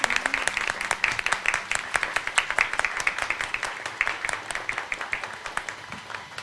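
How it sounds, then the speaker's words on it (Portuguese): A live podcast audience at a cultural centre breaks into lively applause, many distinct claps in a quick irregular patter that gradually thins and softens toward the end, with no talking. "Uma salva de palmas para esse momento."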